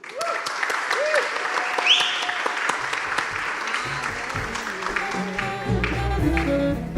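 Demo day audience at Startup Village Split applauding continuously, with a background voice and music picking up partway through.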